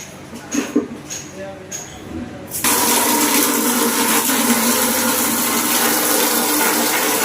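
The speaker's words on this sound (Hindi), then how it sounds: "ये सप्लाई का पानी है, आ रहा है। तेज आ रहा है, तेजी के साथ में आ रहा है।" Supply tap water gushes fast into a bucket, a loud, steady rushing splash that starts suddenly after a few quieter knocks and continues unbroken.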